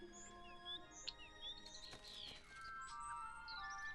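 A blackbird gives short whistled phrases and chirps over a steady sustained musical background, moderately close and fairly continuous.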